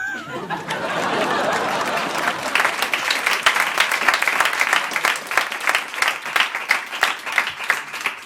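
A live audience at a karaoke comedy show breaks into sustained, dense applause, steady and loud throughout, with crowd chatter and a few chuckles mixed in.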